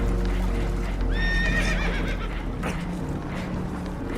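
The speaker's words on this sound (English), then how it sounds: "Horses are spooked, and we're taking on water." Spooked horses in a video game, Red Dead Redemption 2, whinny in a shrill, rising burst over a dense, rumbling background of a boat taking on water, followed by lower agitated snorts and clatter that fade under the steady noise.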